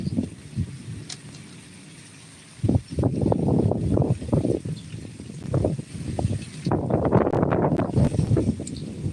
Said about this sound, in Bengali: আবার জোরে বৃষ্টি নেমে গেল আবার হাওয়াও দিচ্ছে প্রচণ্ড হাওয়া দিচ্ছে